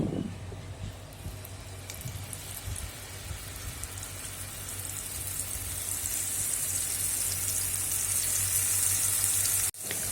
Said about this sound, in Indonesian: Kita tumis bumbunya sampai benar-benar matang dan tanak.